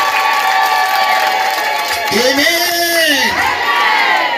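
Church congregation clapping, cheering and whooping in praise of Jesus, a loud crowd roar with a voice rising and falling over it and a sustained shout near the end.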